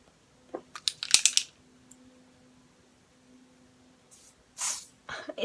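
Short hissing bursts of Dior Airflash aerosol spray foundation, a quick cluster then two more puffs later, close and crisp against near silence.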